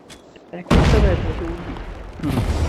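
A grenade explosion in the mobile shooter Call of Duty Mobile lands as a sudden loud boom with a rumbling tail, preceded by faint game noise and later another burst, while players talk over it.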